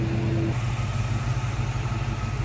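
The engine of a 1963 Chevrolet Nova convertible street rod idles with the hood popped open, a steady, close, throbbing rumble with a brief higher tone at the start before settling into an even lope.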